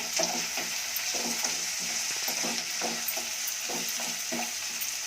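Green peas frying on high flame in a pan, a steady loud sizzle with regular rhythmic scrapes of a spoon stirring through them, close and continuous with no talking.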